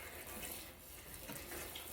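Tap water runs steadily into buffet pans full of skeins of yarn for acid dyeing, a close, constant rushing splash with no talking.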